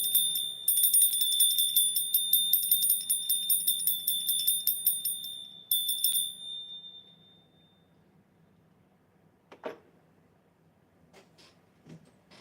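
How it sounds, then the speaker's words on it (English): A bell rings in rapid repeated strokes for several seconds, bright and fairly loud, then breaks off, rings again briefly and fades to a quiet background with a few faint knocks. "The bell of happiness."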